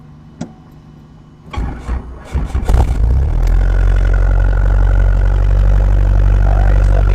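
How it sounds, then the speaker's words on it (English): A Robinson R22 helicopter engine cranks over with a few clattering starter bursts, catches, and settles into a loud, steady low idle drone close by, with no talking. "immediately after engine start, we're looking for our starter light to go out"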